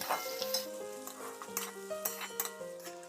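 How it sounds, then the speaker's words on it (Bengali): Chopped onion stirred and softened in oil in a pan, with a gentle continuous sizzle, repeated scraping strokes of a spatula and a faint tonal hum running underneath, fairly quiet and close. "পেঁয়াজকে তেলের মধ্যে নেড়ে একটুখানি নরম করে নিতে হবে"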